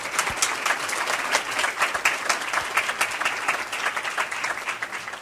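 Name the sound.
luncheon audience applauding elected officials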